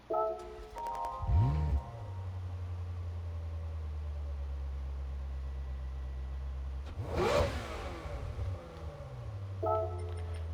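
A 2006 Ferrari F430 engine in Gran Turismo 7 cranks and fires up with a sharp rev, settles into a steady idle, then revs loudly again before idling on.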